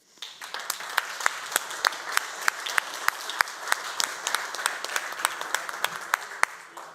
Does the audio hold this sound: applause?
yes